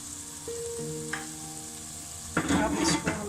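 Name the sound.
stirring spices with lobia in frying pan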